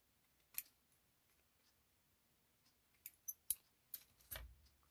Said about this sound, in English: All right, I'm going to trim that.